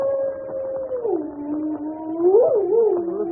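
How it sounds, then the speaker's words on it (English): A dog howls in a long, wavering, mournful tone on a stormy night, sustained and fairly close, with the pitch sliding down and then rising again. "Listen to that dog. He's in an ugly temper."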